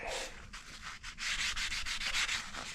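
A shop rag is rubbed and wiped briskly over a vehicle's parts during an oil change, giving close, scratchy back-and-forth strokes in quick bursts with no talk.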